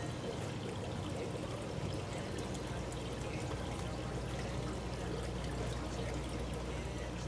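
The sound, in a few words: water squeezed out of aquarium sponge filter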